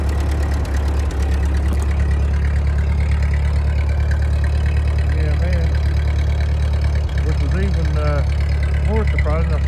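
Cold start of an old Ford 8N tractor or a Chevy C30 truck: a loud, close engine rumbling steadily at idle with uneven pulses, while a voice talks over it near the end.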